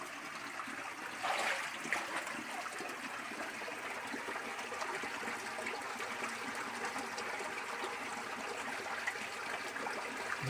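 Water of the world's shortest river, in Wakatobi, flows in a steady, continuous rushing trickle, fairly faint and unbroken throughout, with no voices.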